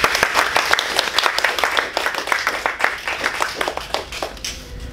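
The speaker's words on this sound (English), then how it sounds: "let's give him a very big round of applause" A room of listeners at a speech evaluation session gives a speaker a big round of applause, dense and even clapping that carries on for about five seconds.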